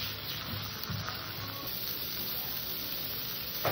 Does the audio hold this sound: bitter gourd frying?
yes